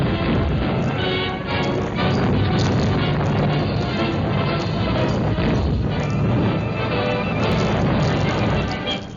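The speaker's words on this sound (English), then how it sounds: "As the water seeps in, smoke rises through a series of muffled explosions." A sodium container breaks through lake ice and reacts with the water, setting off a dense, continuous rumble of muffled explosions, loud and booming with crashing bursts throughout.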